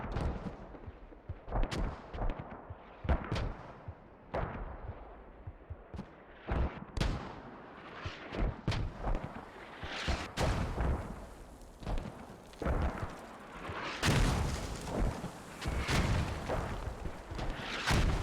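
Mortar rounds landing in the Squad combat game, a steady run of sharp booms and blasts at varying distances, some heavy and close, others softer, with denser impacts near the end.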